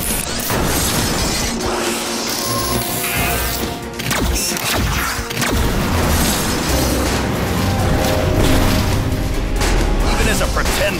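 Sonic cannons fire in a chaotic animated Rescue Bots action scene: loud blasts and crashing booms, with shouting voices mixed in over dense rumbling and shattering impacts.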